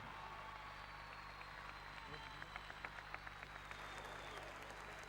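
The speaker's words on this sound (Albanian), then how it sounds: "Një duartrokitje për Josën." A recital audience breaks into faint, distant applause, with scattered clapping building midway while voices murmur underneath.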